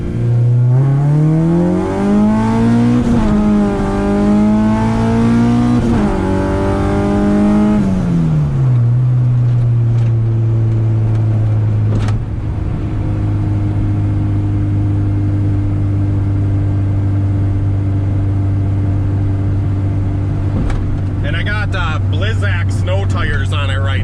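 A K24-swapped Honda Integra pulls hard in second gear from a roll, its engine note rising loud and steady through the revs before easing into a lower drone, with wind and road noise underneath.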